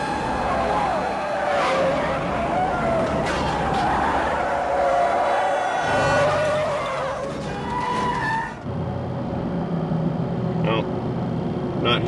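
Red mid-90s-style Dodge Ram pickup truck driving at speed, a continuous engine drone and road roar with tire noise throughout, while a person talks over it.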